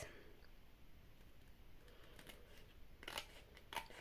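Scissors snip through plain white paper, trimming the overhanging edge, with a couple of short crisp cuts near the end over a quiet room background.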